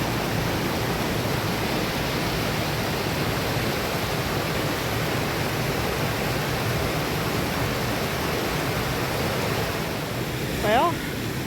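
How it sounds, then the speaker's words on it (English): A smaller waterfall at the Walls of Jericho in Alabama gives a constant, broad rushing roar that never lets up, with a brief higher chirp near the end. "you can still see the smaller waterfall, not the actual Walls of Jericho waterfall"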